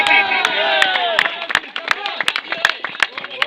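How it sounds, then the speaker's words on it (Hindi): Applause from an audience for a cricket tournament's best bowler: scattered, uneven claps come through a busy crowd murmur and a voice speaking, with a loud sustained tonal bed underneath. "आप तमाम दोस्तों की जोरदार तालियों में"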